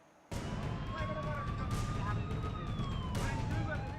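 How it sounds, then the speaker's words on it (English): An ambulance siren wails as the vehicle forces its way through raging floodwaters in Tripura, a steady rising and falling tone that starts abruptly and continues over loud, broadband rushing water and engine rumble. "An ambulance forcing its way through the raging floodwaters in Tripura."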